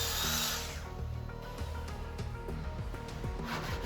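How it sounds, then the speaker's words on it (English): Festool track saw trimming the edges of 20-year-old wooden floor boards, a steady loud power-tool whine with motor hum running throughout, shifting slightly as the blade moves through the wood. "To finish it off, I'm trimming the edges with the Festool track saw"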